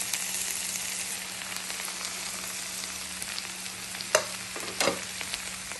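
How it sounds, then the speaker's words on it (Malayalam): Shallots, garlic, ginger and spices with Kashmiri chilli, coriander powder and salt sizzle steadily in a pan for a Kollam-style fish curry, with a couple of sharper scraping stirs near the end and no talk. "ഇത് നല്ലപോലെ ഇതിൽ കൂടി മിക്സ് ചെയ്ത് കൊടുക്കുക"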